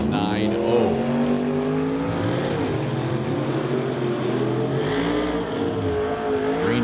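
Drag race cars, including a 1970 Chevrolet Camaro, roar loudly at a strip with engines revving and accelerating, a dense continuous rumble under an announcer's voice.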